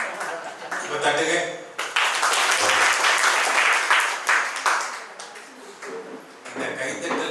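Crowd applause at a motivational speech event, dense clapping swelling and ebbing across the whole stretch, with a brief voice heard near the start.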